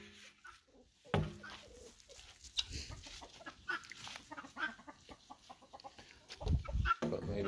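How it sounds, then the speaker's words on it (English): Guinea fowl calling outdoors around a small homestead with chickens, a run of harsh clucking, squawking cries rising and falling over several seconds, fairly close with a couple of louder bursts near the end. "And the noisy guineas."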